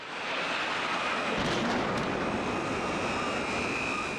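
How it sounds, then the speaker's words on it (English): News footage of planes hitting the Twin Towers in New York City carries a loud, steady roar of aircraft noise that swells in quickly and holds for several seconds, with no talking. "2 planes hit the Twin Towers in New York City."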